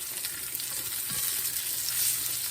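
Pork fatback frying in a hot pan gives a steady, close, crackling sizzle with no letup and no voices over it.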